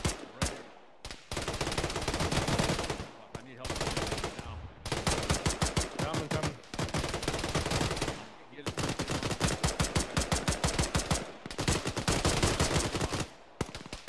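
Arma gunfire from a ShackTac squad game rattles in long, rapid automatic bursts broken by short gaps, loud and close, with single shots scattered between them.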